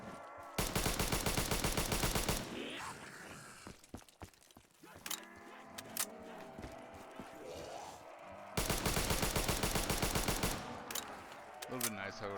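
Rapid automatic gunfire in a custom zombies map video game, two long loud bursts at start and end with single shots, zombie growls and clatter in between, and a voice talking briefly.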